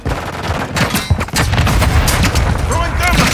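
A grenade blast and rapid gunfire from Call of Duty Modern Warfare III, with dense loud bursts of shots and a heavy boom, while a game voice calls out over the combat.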